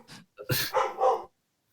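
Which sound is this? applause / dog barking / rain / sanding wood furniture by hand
dog barking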